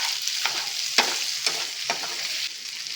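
Ginger-garlic paste and green chillies fry on a hot tawa for chicken tikka, a steady close sizzle broken by four or five sharp scraping stir strokes, with no talking.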